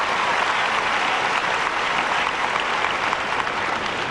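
A tennis crowd at the 2005 US Open first-round match between Maria Sharapova and Eleni Daniilidou applauds a serve with continuous, even clapping that fills the stadium, with no voices on top.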